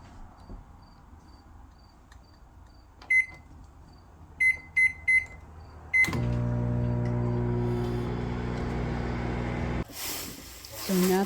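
A microwave oven thawing fish: a few quiet beeps, then the hum of the running oven with steady tonal drone for several seconds, ending in a burst of noise, all fairly near in a quiet room.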